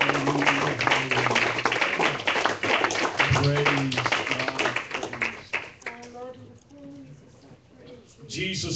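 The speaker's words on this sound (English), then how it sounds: "Would you clap your hands to the Lord and give him some praise?" A church congregation claps in praise during an evening service, with dense rhythmic clapping close and loud while voices talk and call out over it.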